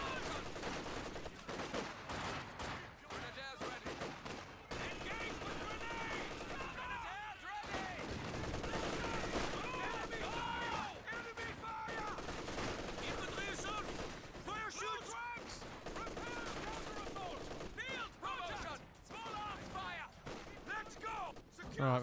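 Bursts of small-arms and machine-gun fire from a Company of Heroes real-time strategy match, scattered and fairly quiet, mixed with game effects and a voice talking over much of the stretch.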